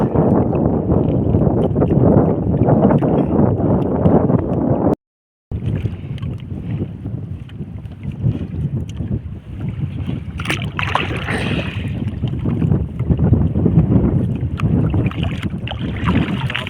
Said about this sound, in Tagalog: Tingnan ko kung naririnig nyo yung hangin, malakas na rin